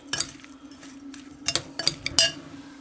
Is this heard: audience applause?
no